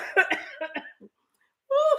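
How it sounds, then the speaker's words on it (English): A person coughs a few times in quick, close bursts, then pauses briefly before a speaking voice resumes. "oh Lord, I'm about to cough live."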